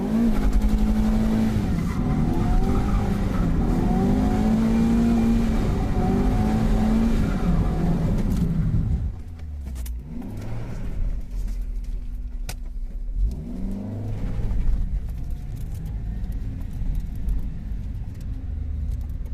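Car drifting: a loud, sustained engine rev with tire squeal for several seconds, then a drop to quieter engine and rolling noise with brief renewed revs and skids, heard close with no talking.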